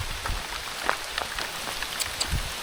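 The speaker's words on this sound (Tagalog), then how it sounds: "Inabutan pa nga ng ulan." Rain falls steadily outdoors with a soft hiss and scattered close drops pattering onto a surface, and no one speaks.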